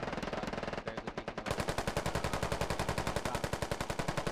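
Automatic gunfire in the video game Squad Ops: a sustained, rapid stream of close, loud shots in an even rhythm, with a brief lighter volley before the heavier fire takes over. No talk is heard.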